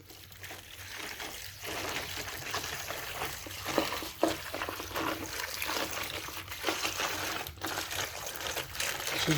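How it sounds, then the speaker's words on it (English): Ordinary tap water pours into a container with ice, a continuous splashing trickle with small clinks, close and steady for several seconds with no talk. "Now let's get some water in here."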